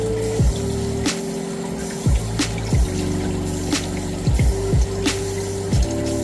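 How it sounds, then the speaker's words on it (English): Tap water runs steadily while mushrooms are washed under it, a near, continuous splashing stream with a low pumping hum that shifts pitch every second or so, with faint clinks and no voices. "So, like I said, I'm only going to use half these mushrooms, so let's wash these off really good."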